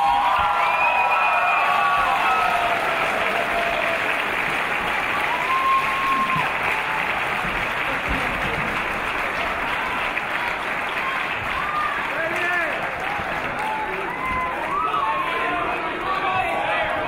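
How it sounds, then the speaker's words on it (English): Audience applause for improv performers at the Everfree Northwest 2017 convention's Whose Line Is It Anypony show: a long, sustained roar of clapping from a big crowd, with scattered cheers and chatter mixed in, loud and continuous throughout. "give them a huge round of applause"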